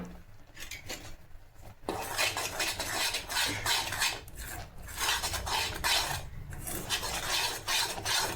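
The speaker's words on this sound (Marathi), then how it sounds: "हळूहळू टाकायचं आहे मिक्स करत करत।" A spoon stirring milk into a roasted chana dal barfi mixture in a pan, producing continuous scraping and clinking of metal against the pot, close and steady after a brief quieter start.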